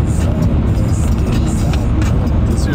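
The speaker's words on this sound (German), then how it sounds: "Das ist übrigens ein Bus hier von der Kaiserslautern Busgruppe." Interior of a moving Kaiserslautern bus-group bus: a loud, steady roar of engine and road noise fills the cabin throughout, with no distinct breaks.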